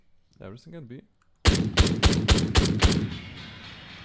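A quick string of about six sharp rifle shots rings out from an SR-25 or MCX Spear in a shooting game, fired in a steady rhythm right after a brief spoken phrase, with a reverberant tail afterward.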